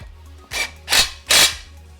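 A power tool driving a 19mm nut onto a bolt while assembling a transmission jack, three short loud bursts close up, each a rising rattling whir of about a quarter second.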